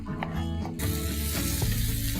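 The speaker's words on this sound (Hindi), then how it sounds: "ऑयल में अदरक लहसुन चिकन शामिल किया" Chicken pieces with ginger and garlic hit hot oil and the sizzle jumps up abruptly, then stays as a loud, close, continuous hiss over a low background hum.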